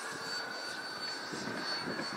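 E-flite Habu STS 70mm electric ducted-fan model jet flying at about half throttle, giving a steady whooshing, high-pitched whine with a faint tonal hum, continuous and moderately loud, with no talk.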